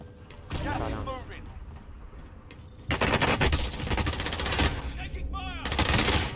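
Gunfire in Call of Duty Modern Warfare Warzone battle royale, dense rapid bursts of automatic shots that grow louder midway, with players talking over the shooting.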